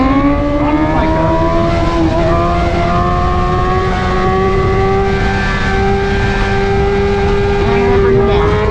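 A BMW S1000RR motorcycle engine is held near 6,500 RPM for a power wheelie. It is a loud, close, sustained rev with a strong droning tone that climbs slightly over several seconds.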